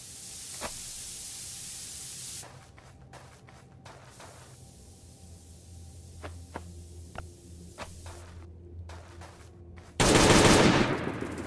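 Weapon fire in a video game: sparse sharp shots and clicks over a low background hum, ending in a loud sustained burst of rapid automatic gunfire near the close.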